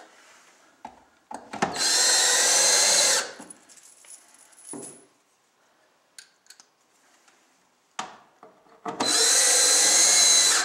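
A power drill drives square-head screws into a Dryerpods dryer assembly: two long, loud, steady whirring bursts at close range, separated by quieter clicks and handling knocks.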